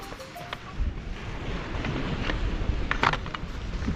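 Seaside wind gusting across an open outdoor space at a resort in Alicante, Spain, a constant low rumble buffeting the microphone with faint rustling on top.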